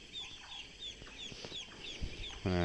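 Chickens at a poultry farm cluck and chirp softly in the background, scattered faint peeps and clucks over a low hum, ending in a louder, closer squawk.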